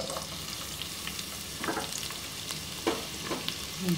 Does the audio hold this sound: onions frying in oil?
yes